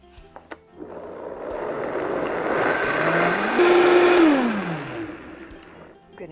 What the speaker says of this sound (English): we're going to blend the mixture until it's smooth.